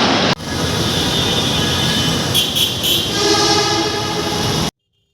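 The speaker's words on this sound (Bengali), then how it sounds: "এখন আসি আমি কাজীপাড়া রেল স্টেশনের নিচে। গাড়ি আসবে, গাড়ির জন্য ওয়েট করতেছি।" A train arrives at Kazipara railway station on a foggy, windy day, a loud continuous rumble of wheels and carriages with brief horn-like tones in the middle, then an abrupt cutoff.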